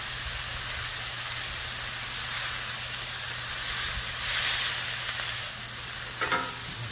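Food sizzling steadily on a VEVOR 22 inch tabletop griddle, a constant close hiss of frying that swells briefly before a few clicks near the end.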